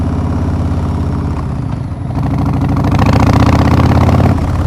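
A 2021 Harley-Davidson Breakout with a Milwaukee-Eight 114 V-twin rumbles on a street ride, a loud, close, deep engine note that swells midway as the throttle opens, with no talking.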